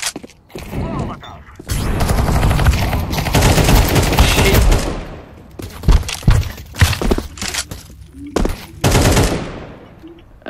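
Loud bursts of rapid automatic gunfire from a shooter video game, a long sustained volley followed by several shorter sharp bursts, close and intense.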